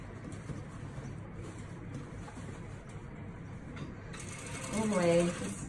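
Sewing machine running steadily while sewing a lined fabric joey pouch for wallabies and kangaroos, a close mechanical hum with light background noise and a brief higher whir near the end.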